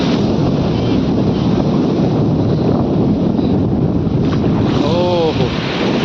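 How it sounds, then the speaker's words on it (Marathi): Sea waves wash steadily at Revdanda beach at high tide, a loud, constant rushing roar buffeted by heavy wind on the microphone. "एकतर लाटा सुद्धा भरपूर येतात इकडे"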